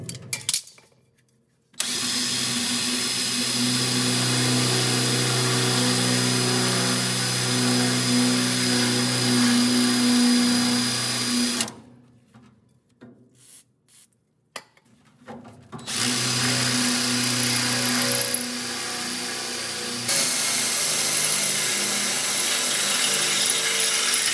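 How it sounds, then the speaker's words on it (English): A power drill bores a hole through the metal body of a VW Karmann Ghia during a rotisserie restoration. It is loud and close, in two long continuous runs separated by a brief pause. "I'm gonna drill a hole here and put a bolt"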